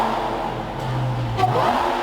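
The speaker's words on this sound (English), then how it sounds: "The Hellcat screaming." A Dodge Hellcat engine holds a loud, steady roar with a brief surge in pitch, heard close and alone without talk.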